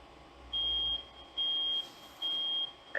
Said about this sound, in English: smoke activates the smoke alarm